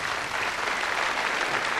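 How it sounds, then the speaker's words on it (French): Steady applause from a studio audience at a televised singing show for young fans, a dense even patter of many hands clapping throughout. "On l'applaudit de confiance."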